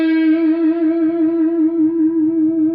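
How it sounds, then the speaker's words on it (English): A single sustained electric guitar note in a 1968 style, bent up and held with a steady wavering vibrato, ringing clean with slight effects. "if I'm bending a single note like that and I'm going to add vibrato"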